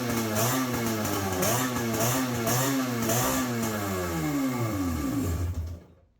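A Kawasaki 750 jet ski with an old two-stroke engine runs close and loud, revving in wavering, rising and falling swells with a raspy, rattly tone before cutting off abruptly near the end.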